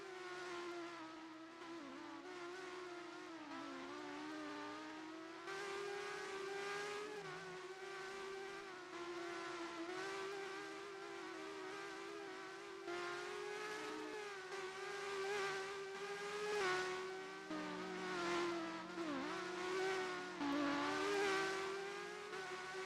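Race cars driving in a racing video game at a South Korea circuit, several engines whining and shifting pitch as they rev and change gear continuously, moderately loud with no talk over them.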